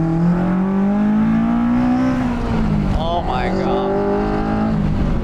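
A Honda F22C engine swapped into a 1977 Toyota Celica revs hard, a loud continuous wail climbing in pitch, while occupants talk excitedly over it.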